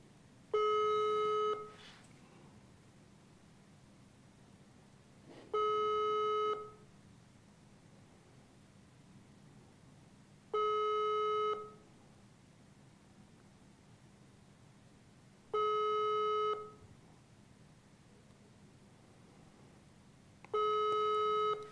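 Unanswered telephone ringback tone, five evenly spaced tonal rings about five seconds apart, each lasting roughly a second, clear over a quiet hiss with no one speaking.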